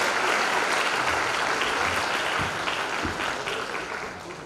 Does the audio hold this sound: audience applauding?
yes